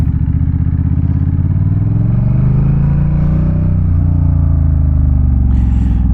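A Honda Rebel 1100 DCT motorcycle engine pulls away in second gear with a loud, close, deep throbbing rumble that swells as it gathers speed, heard alone without talk.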